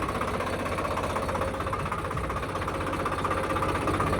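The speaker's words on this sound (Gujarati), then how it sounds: "આપણે હવે ટ્રેક્ટર લઈને જઈએ છીએ ઘરે" A tractor engine runs steadily nearby, a continuous low knocking chug with an even, rhythmic throb.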